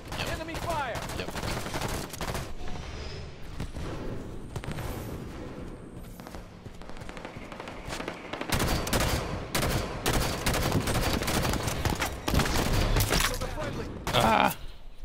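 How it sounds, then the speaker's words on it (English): Enemy gunfire in the Halo 5 shooter, with repeated bursts of automatic shots and sharp impacts crackling through much of the stretch and heavier in the second half, mixed with game sounds and a player talking. "Enemy fire."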